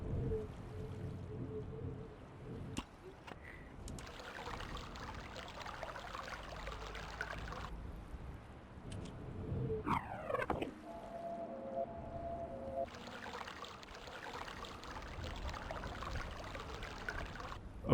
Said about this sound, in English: this last one now makes the water sound.